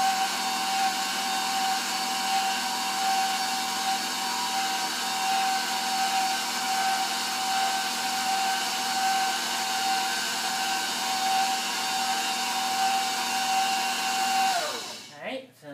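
An electric stand mixer beats chocolate chip cookie dough in a raised bowl, a steady close motor whine that holds constant for about fifteen seconds before winding down at the end.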